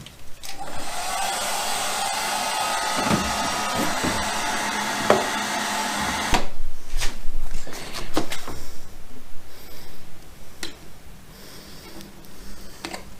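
Heat gun blowing on a Hobie Pro Angler kayak mount: a steady, loud airy roar for about six seconds, then cut off and followed by softer handling knocks and rustles nearby.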